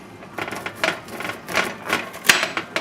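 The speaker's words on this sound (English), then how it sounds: "Now I started to cut the corn already." Sharp knife cutting straight down a fresh corn cob to strip the kernels, a series of crisp irregular scraping cuts, close and fairly loud, with no talking.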